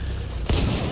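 The main cannon of a Battlefield 1 assault truck fires a single loud, deep boom that cuts in midway through an already noisy in-game backdrop.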